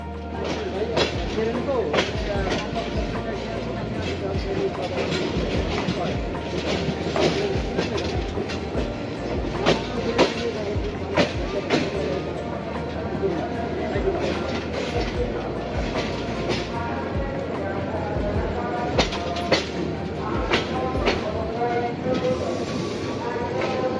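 A passenger train in Bangladesh runs along the rails at night toward Dhaka Airport station, heard from inside as a constant rumble with repeated sharp clickety-clack beats, while voices murmur in the carriage.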